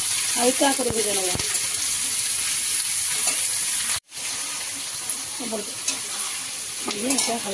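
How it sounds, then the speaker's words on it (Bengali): Cubed capsicum and onion stir-fry in a pan for a lachha paratha meal, a steady sizzle with spatula scrapes and stirring knocks throughout, briefly cutting out midway, with a voice faintly present. "নাড়িয়ে নেব, হালকা করে ভেজে নেব।"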